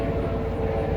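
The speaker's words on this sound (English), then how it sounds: "Sorry, we got our helicopter flying over." A helicopter flying overhead outdoors, heard as a loud, steady low rumbling drone with broad noise that fills the whole second without a break and with no talking.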